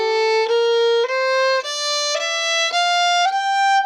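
Fiddle in cross tuning bowing a Dorian scale, seven clean ascending notes of even length, each sustained about half a second, close and solo with no voices.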